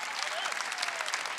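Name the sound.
church congregation clapping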